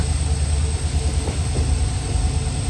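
A train runs along the Goa to Dudhsagar route, a steady low mechanical rumble and hum heard close, with no talk.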